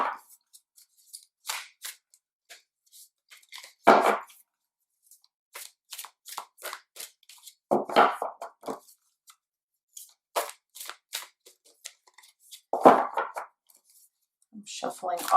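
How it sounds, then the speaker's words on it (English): A deck of oracle cards is shuffled nearby, giving crisp, papery bursts of riffling and sliding at irregular intervals, with short quiet gaps between them. "I'm shuffling off screen here, just waiting for a card to reveal itself."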